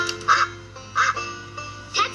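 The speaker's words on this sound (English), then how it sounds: "That's a duck." Three short, bright duck quacks sound at an even pace in a farm-animal sound game from a children's film, each sitting over a faint steady hum.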